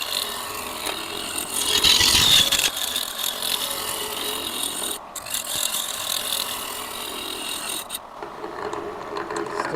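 Wood spins on a lathe during roughing, and a knot in the blank clicks against the gouge, a rapid rattling scrape that runs nearly all the way through, loud and close.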